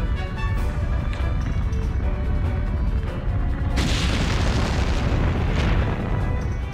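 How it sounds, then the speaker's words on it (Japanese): Massive keel bones embedded in a cavern wall grind into motion in Atelier Ryza 2, a loud continuous rumbling roar that swells with a brighter crashing burst midway and keeps churning to the end. "壁の竜骨が動き出した"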